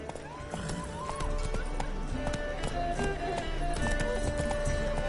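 A horse gallops in The Witcher 3 on PS4 Pro, with rapid rhythmic hoofbeats and a brief whinny over game music and ambient sound effects, loud and continuous throughout.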